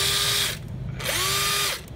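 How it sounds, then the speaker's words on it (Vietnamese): An old replacement motor whines in a hand drill, running in two loud bursts that each spin up and then wind down, with a short pause between them and an uneven, rough tone. "tiếng motor không được êm ái cho lắm"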